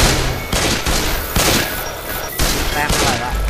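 Rapid bursts of gunfire from the video game Left 4 Dead 2 come in loud, repeated volleys, with short gaps between them and a voice speaking over part of the shooting.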